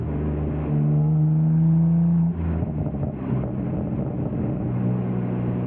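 A BMW G87 with a 6-speed manual revs loudly while driving, its engine note climbing steadily then dropping back to a lower rumble, close and continuous with no talk.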